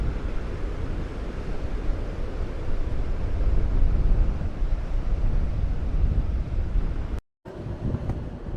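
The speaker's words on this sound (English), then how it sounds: "the wind's really picked up round this corner" Strong wind buffets the microphone on the coast at Aberystwyth, Wales, a loud continuous roar with gusting low rumble and surf-like wash, briefly cutting out near the end.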